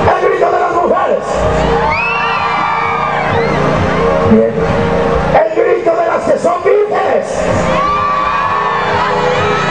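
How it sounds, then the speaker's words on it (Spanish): A crowd of women at a public event shouts and cheers loudly and continuously, a dense roar of high voices close by, with someone speaking briefly. "Quiero escuchar el grito primero de las mujeres."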